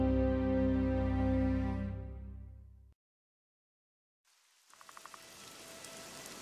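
Rain falls in The Witcher 2 video game. A steady, hissing downpour rises after a stretch of fading music and a brief silence, then continues alone and moderately loud.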